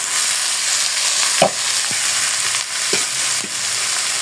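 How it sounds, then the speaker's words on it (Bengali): Greens go into a hot wok with garlic, onion and green chilli, and the loud frying sizzle is broken by several scraping stir strokes at a fairly even rhythm. "এই যে রসুন পেঁয়াজ কাঁচামরিচগুলো আমি ভেজে নিচ্ছি কড়াইতে"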